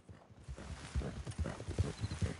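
Horse hooves clip-clop in a steady rhythmic gait in the Red Dead Online video game, close and continuous beneath a soft ambient game backdrop.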